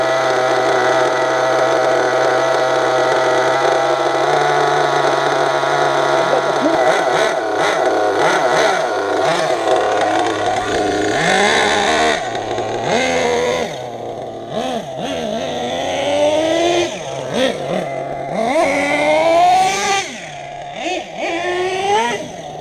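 A Savage motorcycle engine runs loud and close, holding a steady idle before repeated throttle blips swing it up and down in rising and falling revs.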